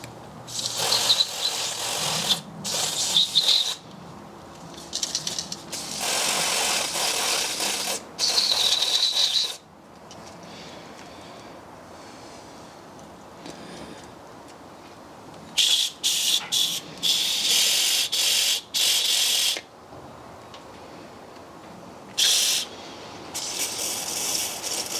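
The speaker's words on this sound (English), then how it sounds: "just going to give them a clean with some electrical contact cleaner" Electrical contact cleaner sprayed onto small engine sensors during supercar repair work: four or five sharp, close hissing bursts of several seconds each, separated by quieter pauses.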